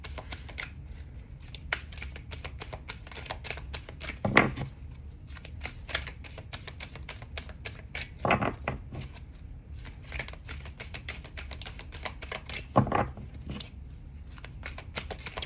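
Oracle cards are shuffled in a quiet room, giving soft papery riffling and flicking with a few louder riffle bursts spaced several seconds apart, faint and close, with no talking.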